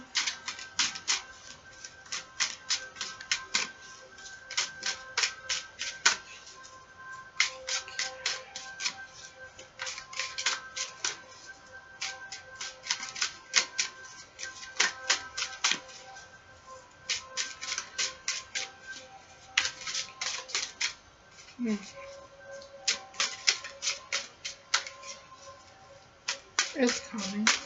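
Rapid riffling bursts of tarot cards being shuffled repeat in quick clusters with short pauses, close and fairly quiet, with no talking.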